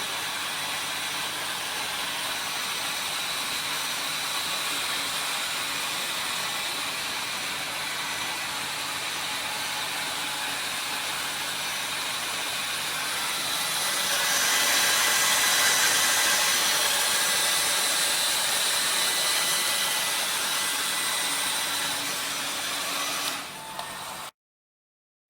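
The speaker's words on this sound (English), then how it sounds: "dryer." A dryer blows a steady, loud rushing airflow over a polished nodular cast iron specimen in a lab, swelling briefly stronger partway through before cutting off abruptly at the end.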